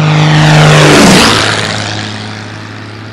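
Pioneer 300 light propeller aircraft passing at cruising speed, a loud engine and propeller drone that peaks close by, drops in pitch like a flyby, then fades as it moves away.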